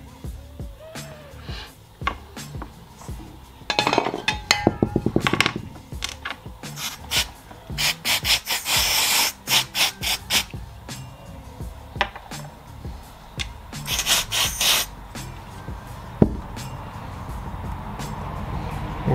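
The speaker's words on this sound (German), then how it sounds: "die Platte werden wir jetzt im Grobdurchlauf gleich reinigen" Oily engine parts and a plate from a Puch moped being scrubbed clean in a workshop, with brisk bursts of rough brushing and scraping, clinks of metal parts, and pauses between strokes, close and moderately loud.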